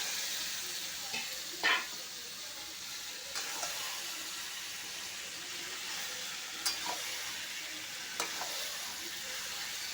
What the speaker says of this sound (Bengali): মাংসটা দিয়ে এবার ভালো করে কষিয়ে নেব